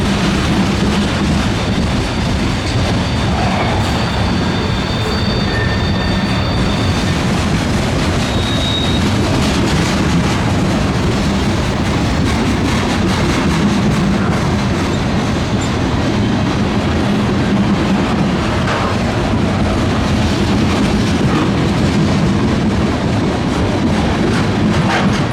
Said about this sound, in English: 63V was crossing over all tracks in order to continue towards its destination of Mingo